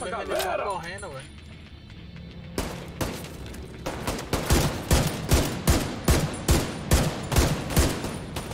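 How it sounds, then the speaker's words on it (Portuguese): Gunfire in The Division 2 at the Grand Washington Hotel: a rapid string of regular, punchy shots with sharp reports and some echo, heard alongside game sounds and chatter. "A zoada do tiro tá massa, velho."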